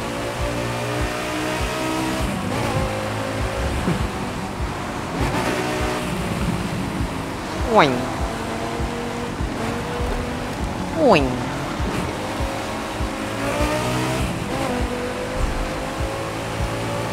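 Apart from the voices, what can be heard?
car driving fast in video game The Crew 2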